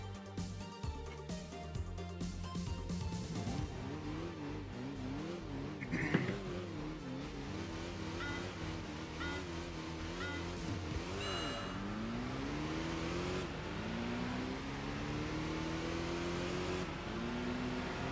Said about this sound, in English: we're already having two vehicles absolutely tearing past. The Opel Corsa and the Peugeot 206